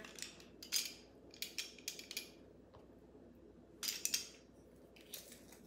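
A knife cuts through a large oyster on a board, giving several short, crisp scraping and clicking bursts in uneven clusters, fairly faint, with no talking.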